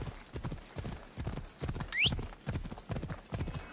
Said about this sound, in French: On va appeler le cheval.